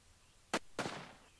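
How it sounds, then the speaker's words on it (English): A gunshot in the video game Red Lake: two sharp cracks about a quarter second apart, the second with a longer decaying tail, heard alone over quiet game ambience. "Oh, yeah, that's a gunshot"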